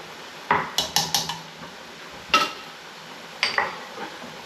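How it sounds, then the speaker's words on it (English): A spatula knocking and scraping against a pot while chili vegetables are stirred, a cluster of quick metallic clinks followed by a few separate louder taps, close and clear. "That's a nice little spatula. Stir this around some."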